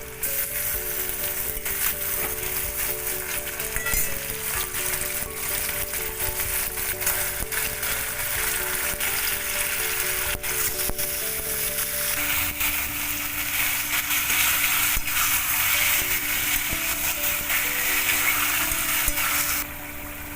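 Marinated lote fish coated in lemon juice, salt, turmeric and mustard oil fries in hot mustard oil, giving a steady, dense sizzle with crackling spatters that grows slightly louder toward the end, close by and without talk.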